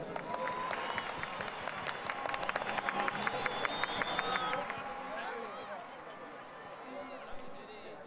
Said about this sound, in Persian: حاج آقای قومی رو تشویق بکنین.